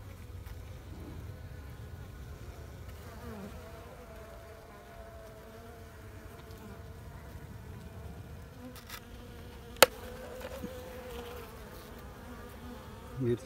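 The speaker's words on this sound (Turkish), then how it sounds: "Bizde en az 700 tane genç işçi arı olacak bu kutuda." Honey bees buzzing inside a hive box holding young worker bees, a steady soft drone with one sharp click partway through and no speech.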